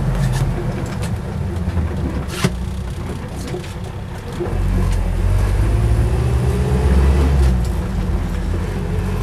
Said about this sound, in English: Stops nicely and pulls up in a straight line as it did then.